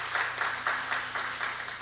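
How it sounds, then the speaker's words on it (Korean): Church congregation applauding the choir during a Sunday worship service, steady moderate clapping from a crowd filling the room for about two seconds. "다시 한번 찬양대를 위해서 큰 박수 한번 부탁드립니다."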